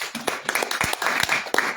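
An audience claps at an opening session in Amsterdam, with a scattered, uneven run of hand claps that are fairly close and sharp.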